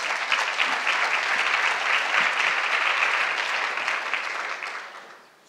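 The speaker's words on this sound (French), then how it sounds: "Je vous invite à les applaudir" An audience at a French talk event claps warmly and continuously for several seconds, the dense applause then tapering off quickly at the end.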